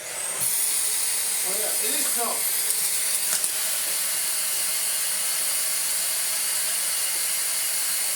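A clogged Dyson UP22 Light Ball bagless vacuum cleaner runs with a steady, loud airy hiss throughout, strained and whooshing, while a person speaks briefly near the start.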